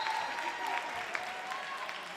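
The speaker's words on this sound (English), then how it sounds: "Ray Fournier gets quite the ovation from this crowd and this student section." A home crowd and student section at a high school basketball game, MVU Thunderbirds versus Mt. Abraham, fill the gym with sustained applause and cheering, a dense wash of clapping under a commentator's voice.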